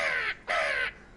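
A human voice imitates a mountain crow's call with two harsh, nasal caws in quick succession, close and clear with nothing else around it.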